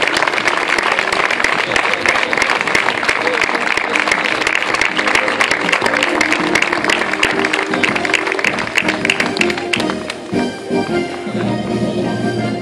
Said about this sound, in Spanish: El aplauso, señoras y señores, a nuestro representante de bares y cantinas de Barrial